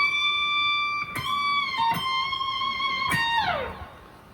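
An electric guitar lick, played clean and alone: sustained notes with pick attacks, then a closing slide that glides down and fades out.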